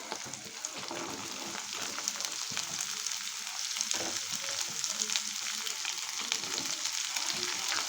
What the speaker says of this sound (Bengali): এবার সবজিগুলোকে কিছুক্ষণ একটু হবে একটু ভেজে নেবো